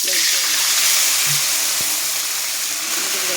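Panch phoron spices sizzling in hot oil in a pan, a loud continuous frying hiss with a few faint pops, steady from start to finish and close up.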